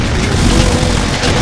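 Dense, loud burst of weapon fire in the Brutal Doom mod of Doom, heavy booming blasts packed tightly together with no pause, filling the whole moment.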